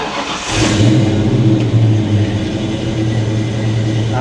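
A Ford Foxbody Mustang engine cranks briefly, then catches and settles into a loud, steady idle that carries on alone to the end.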